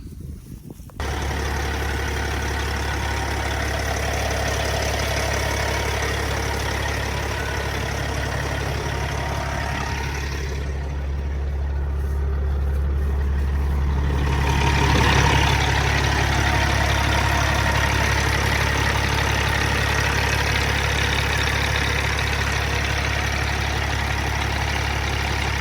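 A 2007 Peterbilt 379 truck with an overhauled engine idles in a steady, heavy, low rumble heard up close for about twenty-five seconds, with a brief shift in tone midway as the listening position changes.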